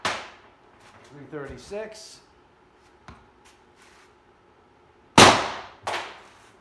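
CO2 airgun fitted with an FSV regulator firing a single sharp shot, loud and close, followed by a softer click or echo, with brief speech earlier in the clip.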